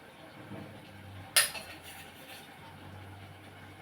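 A metal spoon clinks once against a pan as masala is added, a single sharp tap near the middle, with a faint scrape just after, set against a low, quiet kitchen background.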